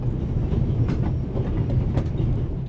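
Steady rumble of a train rolling along rails in a video game, continuous low clatter of wheels on track with faint rhythmic clicks, fairly close and loud, no talking.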